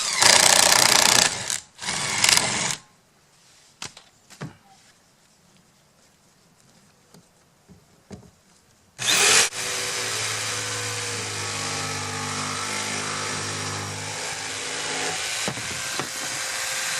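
A power tool cuts through HardieBacker cement board in two loud bursts, then quiet handling and scattered taps, before a long steady high-pitched cutting run that lasts to the end.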